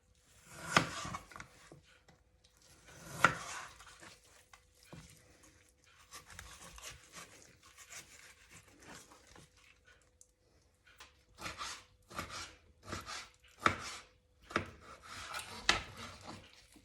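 A knife slices through an aloe vera leaf and strips away its skin, making soft, intermittent scraping and rasping strokes, quiet and close, with the busiest cluster of cuts near the end and no voices.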